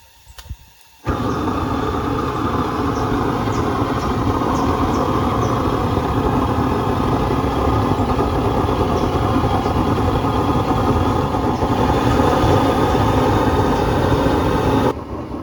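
A Lanz Bulldog 7506 tractor engine fires up after a second of quiet and settles into a loud, steady, rumbling idle that runs without pause until the end.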